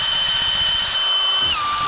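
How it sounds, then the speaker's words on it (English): A power drill auger bores a planting hole in garden soil, whining loudly and steadily at close range before its pitch drops near the end as it slows. "Use the old drill auger."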